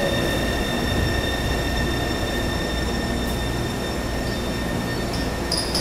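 A Taipei Metro C301 train with a refurbished propulsion system runs between stations toward Da'an on the Red Line, with a steady rolling roar, constant electric whine and faint squealing near the end.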